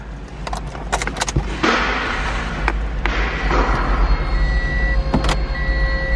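2017 Toyota Corolla LE, opening with clicks and thumps from inside the cabin, then a starter burst and the engine catching into a steady, close idle hum.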